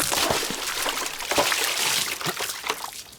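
Mineral water is poured or trickles with a steady, close splashing and dribbling that runs the whole clip with no talk over it.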